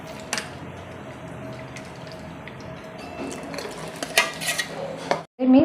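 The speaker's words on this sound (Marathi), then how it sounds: "त्या भांड्यामध्ये थोडंसं पाणी टाकून परत मिसळून घेणार आहे।" Water is poured into a pot and stirred into a ground mung bean batter in a home kitchen, giving a steady close liquid rattle with clinks of a utensil against the vessel and a short sharp knock near the end.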